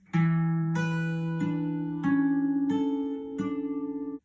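Six evenly spaced fingerpicked notes of the Scarborough Fair first-bar pattern ring out on an acoustic guitar, each pluck clear and sustaining into the next, played at a quiet, steady pace.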